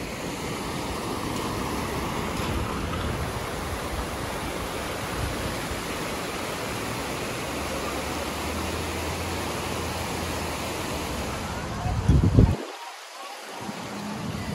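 A river in Pakistan rushes past in a constant, even broadband roar, fairly soft and unbroken, with a brief bump of handling noise near the end.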